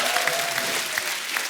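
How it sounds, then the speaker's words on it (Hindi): A studio audience on a Hindi comedy show claps loudly, a thick continuous wash of many hands with a few sharper individual claps standing out, no voices on top. "जोरदार ताली हो जाए"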